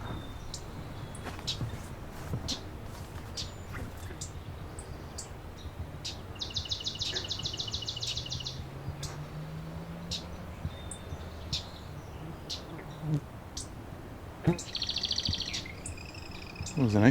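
A loud marsh wren in a marsh gives buzzy, rattling bursts of song, one in the middle and another near the end, over continuous background chirping and insect noise.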